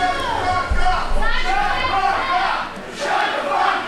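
A wrestling crowd at an ACW Underground show cheers and chants for Simon Sez, a dense, loud roar of many voices rising and falling in waves with shouted calls throughout.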